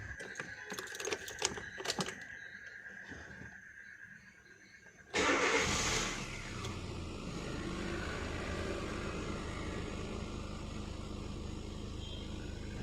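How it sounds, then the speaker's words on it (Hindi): A Hyundai i20 with a no-acceleration fault is cranked and started after a quiet stretch. It catches with a sudden burst, settles into a steady idle, and then revs lightly, all close-up and continuous. "गाड़ी को बंद कर देते हैं और फिर से चालू करके थोड़ा एक्सेलरेट करके देखते हैं"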